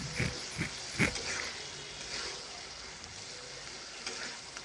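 Fried fish goes into a boiling curry, with a few close clunks at first and then a steady sizzle and bubbling that run on evenly.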